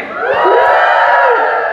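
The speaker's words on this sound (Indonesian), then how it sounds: "Yuk, kita sorakin rame-rame" A group cheers together at an outdoor outbound team game, a loud sustained burst of shouting and whooping voices rising and holding for under two seconds.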